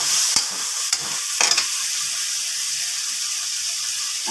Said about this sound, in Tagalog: Ihalo na natin yung